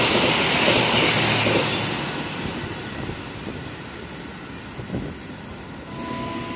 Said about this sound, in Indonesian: Jakarta Premium yang melintas langsung.